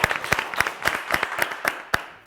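Studio audience clapping on a Turkish word game show, sharp individual claps standing out in an irregular rhythm over a softer bed of applause.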